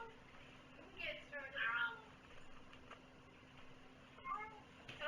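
A kitten meows indoors several times in short, high calls, some drawn out, at moderate distance with a faint steady hum behind it.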